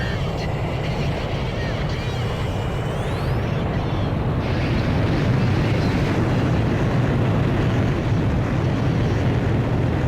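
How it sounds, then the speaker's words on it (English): A carrier catapult launches an aircraft in Ace Combat 5: a loud, continuous roar of jet engine and rushing noise fills the whole stretch, with a rising whine sweeping upward partway through. "Aircraft launch confirmed."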